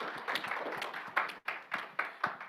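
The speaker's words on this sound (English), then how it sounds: "So please give Dr. Pritam Singh a big round of applause" An audience at an education awards ceremony applauds for Dr. Pritam Singh, a fairly faint, continuous patter of many hands with a few louder swells.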